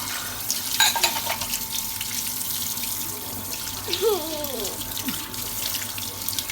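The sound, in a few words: water running while washing dishes at the sink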